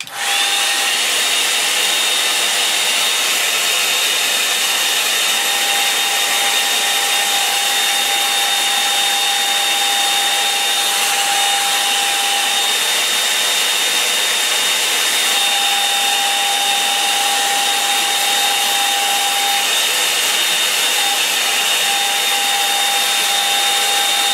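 Hair dryer blowing steadily on craft work, a loud continuous whir with a thin whine, running unbroken from start to finish with no talk.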